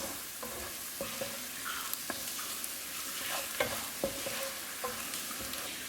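Turmeric is stirred into a mixture frying in a pan, a steady sizzle running under repeated sharp taps and scrapes of a spoon against the pan.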